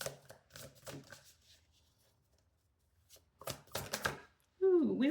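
Cards are shuffled for a tarot card reading in two quick, close bursts of riffling and slapping separated by a quiet gap, followed by a brief voice.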